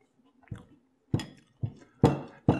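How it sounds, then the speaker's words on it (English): Crunchy French Toast Crunch cereal being chewed in milk, five sharp crisp bites spaced about half a second apart, close and fairly loud, each a short crackly burst, with no voices. "you can hear that distinct crunch"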